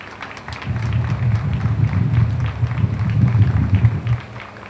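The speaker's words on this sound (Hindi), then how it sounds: "तालियां बजती रहनी चाहिए।" An audience at a formal event applauds steadily for several seconds after a bouquet welcome, a dense, even wash of clapping that stays moderately loud before tapering off at the end.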